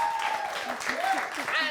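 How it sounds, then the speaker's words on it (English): A crowd claps steadily at an esports event while a voice carries over the applause, the clapping dense and continuous throughout. "Let's give her a round of applause"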